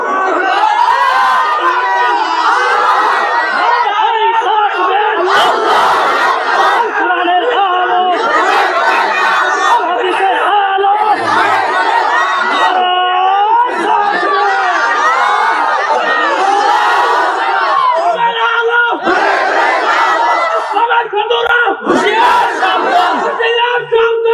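A large crowd at a Bangla Islamic sermon gathering in Manikganj roars the takbir, Allahu Akbar, in answer to a call: loud massed voices chanting and shouting together, surging and falling continuously for the whole stretch.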